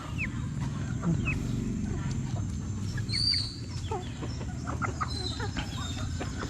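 Chickens after rain cluck and chirp in short scattered calls over a dense, steady low rumble of background noise, moderately close.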